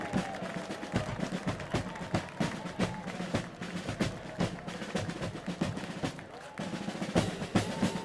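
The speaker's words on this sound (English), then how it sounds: "Let's give them a round of applause, serving our country." A parade crowd in New Orleans claps at a distance, scattered sharp hand claps and crowd murmur spread over several seconds at low level.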